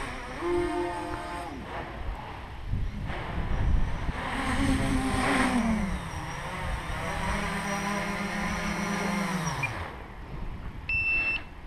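A multirotor drone runs at full throttle, a loud rising and falling motor whine that sweeps up and holds across several passes, with no talk.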